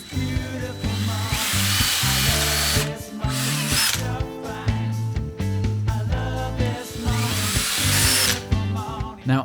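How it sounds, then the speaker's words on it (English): A power drill bores through wood while an outdoor table top is being built, the motor whining in loud sustained bursts that rise and fall in pitch, with short pauses between pushes and no talk. "Then I'm going to switch my drill bit to a smaller drill bit and then drill all the way through this bit of"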